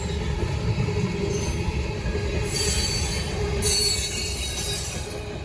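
A northbound Norfolk Southern freight train rolls past with a continuous, loud low rumble of wheels on rail, and high-pitched wheel squeals rise and fade over it.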